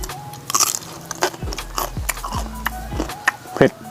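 Someone eats grilled pork coated in a spicy Thai yum sauce, with close, wet chewing and bites repeating over about four seconds and a few short vocal sounds mixed in.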